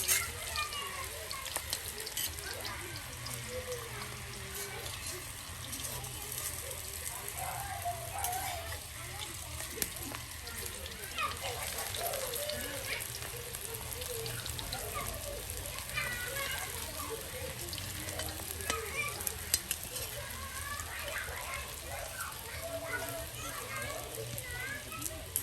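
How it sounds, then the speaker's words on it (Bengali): Taro (kochu) fritters fry in hot oil in a village kitchen with a constant, crackling sizzle. Someone talks over it throughout. "দেখুন কত সুন্দর করে তেলে কিন্তু সেই কচুর বড়াগুলো ভেজে"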